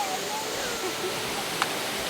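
Steady broadband rush of a waterfall in Hawaii, a constant close wash of falling water with one brief sharp tap near the end.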